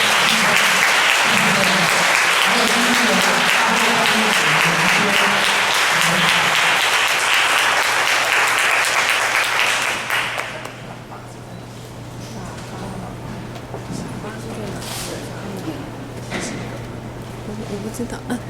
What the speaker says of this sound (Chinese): 那我们现在用热烈掌声来欢迎我们 Peter